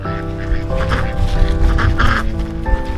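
Lavender Orpington chickens give loud, honking calls in a close, busy cluster over a steady droning hum.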